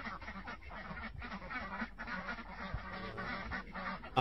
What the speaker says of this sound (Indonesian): Orang tuh buka pintu untuk kasih keluar itu itik